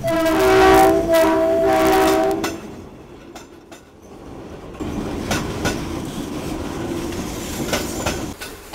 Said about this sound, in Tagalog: Tumitigil ang usapan pag dumadaan ng tren.